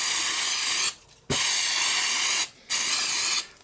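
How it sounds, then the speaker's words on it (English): Cheap auto brake cleaner is sprayed onto a DR650 motorcycle's front brake caliper in a workshop: three loud, close bursts of hissing aerosol, each about a second long, separated by brief pauses with a small clunk. "so I can just spray the crap out of that."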